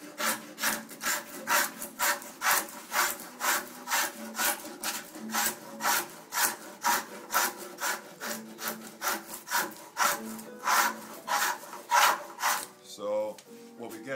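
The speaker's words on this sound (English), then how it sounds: "The next thing is this kind of a scoop chisel, and I start scraping the surface." A scoop chisel scrapes across a wooden surface in a steady, rhythmic series of close, rasping strokes, roughly two per second, continuing without pause.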